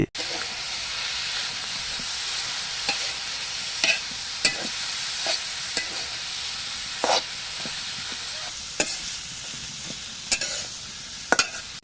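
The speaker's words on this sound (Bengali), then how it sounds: "এখন শাকগুলোকে ভালোভাবে নেড়েচেড়ে সমস্ত মশলার সঙ্গে মিশিয়ে দিচ্ছি" Kalai greens are stirred and fried with spices in a pan over a village clay stove, with a constant hissing sizzle broken by repeated scraping strokes at an uneven pace, close up.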